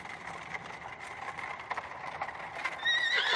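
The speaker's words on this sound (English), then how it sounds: "A caleche with 4 horses had drawn up beside us" Four horses drawing a caleche carriage, with a steady clatter of hooves and repeated neighing and whinnying close by under a stormy night atmosphere, rising toward the end.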